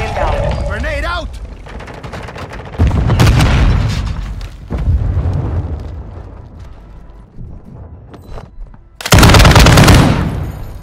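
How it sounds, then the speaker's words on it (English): Grenade blast and bursts of automatic gunfire in Call of Duty: Modern Warfare II, loud booming explosions at intervals with rattling shots, a heavy final blast near the end, with game voices underneath. "Grenade out."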